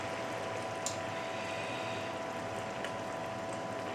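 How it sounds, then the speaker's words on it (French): Cream sauce bubbling at a steady boil in a pan, a soft continuous simmering hiss with faint pops, fairly quiet and without voices. "Là vous voyez au niveau de la cuisson c'est en ébullition."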